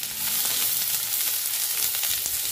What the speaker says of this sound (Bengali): ফার্স্টে পেঁয়াজটা একটু ভালো করে ভেজে নিচ্ছি।